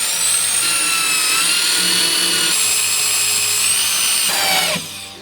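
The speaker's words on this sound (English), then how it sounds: "I'll just put a couple screws in there to mount it to the base" Power drill driving screws into the base of a trunk on an electric trike: a loud, steady high-pitched motor whine that shifts pitch a few times, then winds down abruptly near the end.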